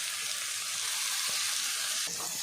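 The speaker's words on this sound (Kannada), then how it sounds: "ಇದನ್ನು ಫ್ರೈ ಮಾಡ್ಕೋಬೇಕು." Onion and cabbage sizzle in a pan, a steady hiss of frying under light stirring, with a brief clatter near the end.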